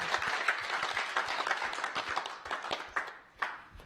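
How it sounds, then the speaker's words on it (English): A group applauds, a dense patter of many hands that thins out into a few scattered louder claps toward the end, moderately close, with faint talk in the background. "Give yourselves a round of applause,"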